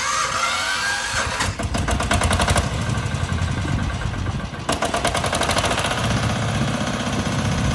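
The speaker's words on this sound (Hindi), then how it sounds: "यदि इस मशीन में इंजन की बात की जाए तो 10 HP क्षमता वाला एयर कूल्ड डीजल इंजन है।" A 10 HP air-cooled diesel engine on a tractor-mounted Greenland reaper binder runs with a loud, rapid mechanical chatter, steady throughout with a few brief surges in intensity.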